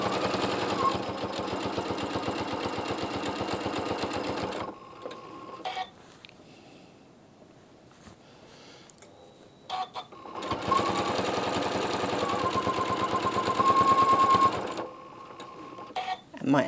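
A sewing machine runs close by as it stitches the binding on a quilt-as-you-go quilt, with two long steady runs broken by a quiet pause full of small clicks and handling noises.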